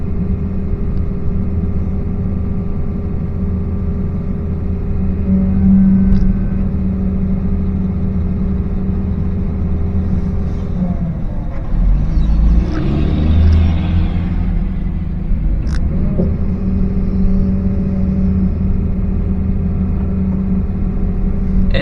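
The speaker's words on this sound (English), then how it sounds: "we're finally getting some trucks from the back" Dump trucks arrive at an earthmoving site with a steady low diesel rumble. A heavier, nearer surge swells around the middle, and faint clanks cut through now and then.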